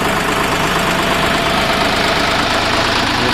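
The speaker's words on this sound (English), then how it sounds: "Got the 3-cylinder diesel" A three-cylinder diesel on a Ditch Witch 4010 backhoe idles close by, a steady loud rumble with an even knocking throb and no pauses.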